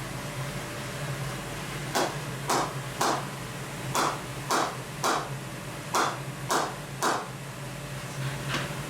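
Mallet strikes on wood while a baseball bat is being made in a workshop, around ten sharp knocks in an uneven rhythm over a steady background hum, moderately close.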